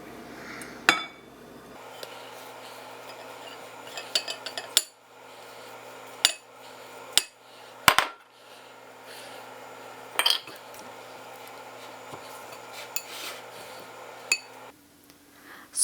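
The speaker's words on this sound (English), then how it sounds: "after what seems like forever of folding in the ingredients to get the dough" Keto empanada dough is folded by hand in a bowl: scattered sharp clinks of a utensil against the bowl, spaced irregularly over a quiet background, some louder and some faint.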